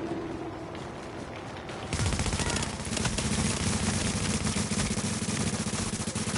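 Sustained automatic gunfire from several shooters in a multiplayer PvP video game, loud rapid bursts that begin abruptly after a quieter stretch and then rattle on continuously and densely to the end.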